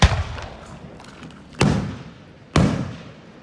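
Fireworks burst at a Niagara Active Hose Co display: three loud, sharp booms, each trailing off into a rumbling echo, one at the start and two more about a second apart near the end.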